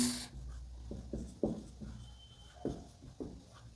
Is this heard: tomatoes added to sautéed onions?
no